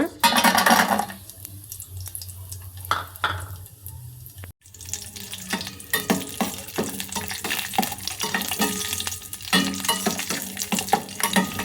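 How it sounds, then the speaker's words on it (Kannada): Raisins and cashews frying in a pan, a steady hissing sizzle with clinks and stirring scrapes of a utensil against the pan, fairly close, no talking. "ಸ್ವಲ್ಪ ಹಾಗೆ ದ್ರಾಕ್ಷಿ ಗೋಡಂಬಿನ ಫ್ರೈ ಮಾಡ್ಕೊಳ್ಳೋಣ."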